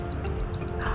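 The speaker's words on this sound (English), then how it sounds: "that was a wren" A wren sings in a garden, a rapid run of high, bright repeated notes at close range, steady and alone with no voices.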